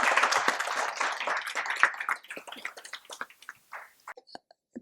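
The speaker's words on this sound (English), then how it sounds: "Big round of applause," Conference audience at a talk on Sanskrit and Pali literature gives a round of applause, loud and dense at first, then thinning into scattered individual claps that fade to silence.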